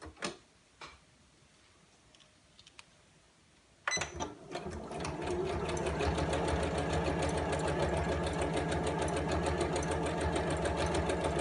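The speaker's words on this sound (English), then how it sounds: "I'm going to top stitch just along this calico edge here on both" A sewing machine runs steadily, top-stitching along a calico edge for a fabric tablet case. It starts after a few seconds of quiet handling clicks and then holds a loud, continuous, rapid mechanical whir to the end.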